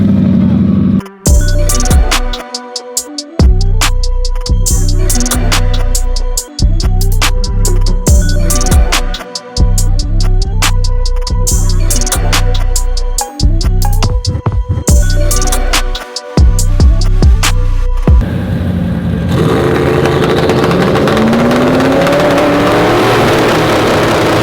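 King Cobra drag race car idling loudly then launching hard down the track, a roaring engine with repeated rhythmic revving pulses for about eighteen seconds before giving way to a more distant, noisy wash as the car pulls away.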